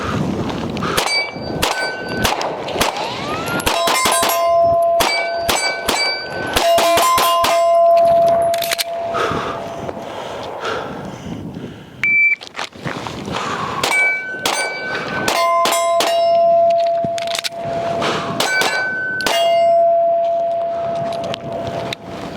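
Sig P320 Spectre Comp pistol shots strike steel targets on an outdoor range at dusk, each sharp report followed by a loud metallic clang and ringing tone, fired in quick clusters of several shots with short pauses between strings.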